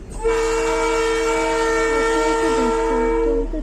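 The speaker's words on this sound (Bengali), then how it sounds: "ওই দেখুন ট্রেন চলে এসেছে দেখুন" A train horn blares in one long, loud, steady tone over the rumble of an approaching train, with no talking.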